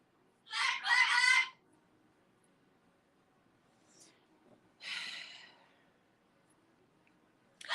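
Pet birds let out loud, harsh squawking bursts, a long double call followed by a shorter one after a pause, with a faint sound between them.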